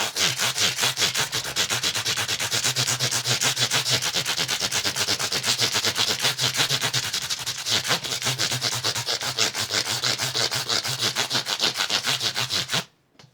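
A guitar neck's wood is sanded by hand with 600 grit sandpaper: steady, rapid back-and-forth scratchy rubbing strokes, close and continuous, with a brief pause midway and an abrupt stop at the end.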